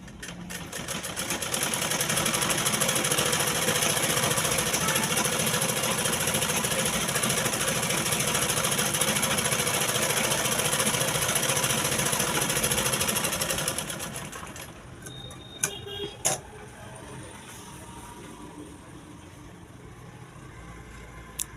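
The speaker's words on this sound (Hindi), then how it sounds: "इस पैर वाले में भी मैं मोहरी की सिलाई कर लेती हूँ।" A sewing machine runs steadily for about fourteen seconds while stitching the hem of a salwar leg, a continuous loud mechanical whir that then stops, followed by a few quiet clicks and low room noise.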